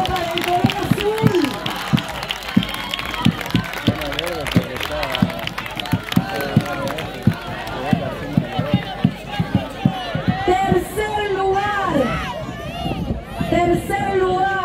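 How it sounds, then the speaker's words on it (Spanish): Crowd clapping and cheering at a school trophy ceremony at a technical school, dense, steady applause with rhythmic claps and crowd murmur throughout, as a voice talks over it on a loudspeaker. "Fuerte aplauso para el color azul."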